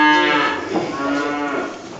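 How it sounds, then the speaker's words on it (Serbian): A bull on a farm gives one long, loud, close moo that lasts the whole stretch and slowly fades toward the end, with no voices over it. "Pa su bikovi."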